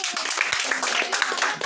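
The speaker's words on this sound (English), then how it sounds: "Clap for them now." Audience clapping at a Bible passage game, a brisk, close patter of hands mixed with overlapping crowd voices that continues steadily for the whole moment.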